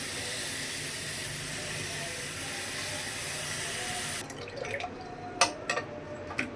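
Wild monsoon leafy greens being rinsed in water at a sink: a steady rush of running water for about four seconds, then it stops and a few scattered drips and splashes follow.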